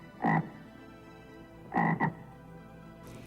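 A frog croaks three times, close and clear: one call, a pause, then a quick double croak, with quiet background between calls.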